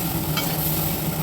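Spices frying in a pan for a rohu fish head curry with amaranth stems, a steady close sizzle that runs without a break.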